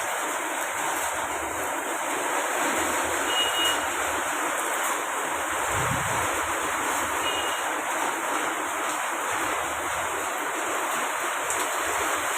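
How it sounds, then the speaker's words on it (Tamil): Strong wind with rain during a daytime storm that has turned the sky dark, a steady broadband roar of gusts and falling water running unbroken and fairly loud throughout, with no one talking. "எப்படி காற்று வீசுன்னு பாருங்கள்."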